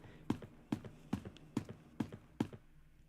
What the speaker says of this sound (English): I hear someone's footsteps.